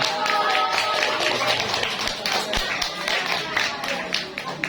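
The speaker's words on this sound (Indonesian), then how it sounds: "tepuk tangan dulu buat Kalista." A group claps for a fifth-grade girl at a Quran camp gathering, a loose, uneven patter of hands at moderate volume. Chatter and murmuring voices run underneath.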